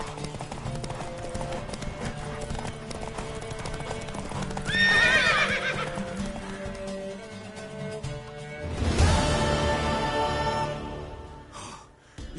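Horse hooves clip-clop at a gallop in The Witcher 3, punctuated by two loud neighs around the middle and later, with snorts and breathy effort over a continuous trotting rhythm.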